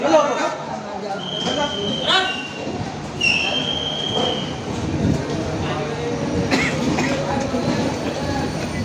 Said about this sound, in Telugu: చూసుకోవచ్చు ట్రైన్ డిపార్చర్ కూడా అయింది